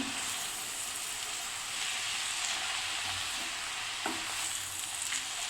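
Spinach greens fry with onions in a hot pan, giving a steady, close sizzle and hiss. A stirring scrape breaks through the sizzle now and then, with a sharper clatter near the four-second mark.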